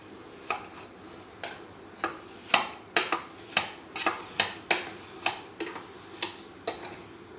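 A knife cuts through a firm, set milk-based ice cream base, making about fifteen sharp clicking taps against the container at a steady, fairly quick rhythm, close and clear with no talk.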